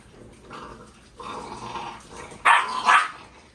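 Fifty-day-old Rottweiler puppies growl and snarl while fighting over chicken frames, low rumbling growls building to two sharp, loud yelping bursts near the end, close by.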